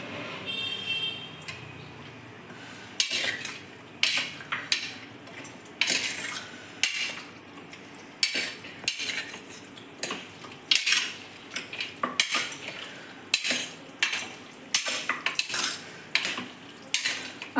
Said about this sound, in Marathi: आणि पूर्ण मिक्स करून घेतलं मी